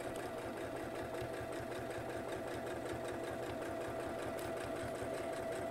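A sewing machine runs steadily as it stitches fabric for a notebook cover, a constant, even mechanical whir that goes on without a break and without talk.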